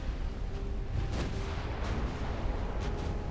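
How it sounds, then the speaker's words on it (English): A torpedo detonates against a battleship in the naval game Ultimate Admiral: Dreadnoughts, heard as a low rumbling boom over a dense, steady roar of battle noise, with a few short sharp cracks. "the Dave also just suffered a torpedo detonation"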